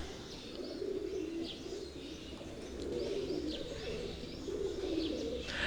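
Kamgar breed pigeons from Kasur, Lahore coo steadily in soft repeated phrases close by, with faint chirps from other birds behind them.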